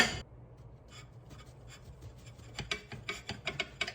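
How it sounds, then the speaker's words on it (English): A bread knife saws through a ciabatta roll in a kitchen, with soft rasping strokes that start faint and grow into louder, quicker crunchy cuts toward the end, close by and with no voices. "I'm just taking my bread knife and I'm gonna cut this in half."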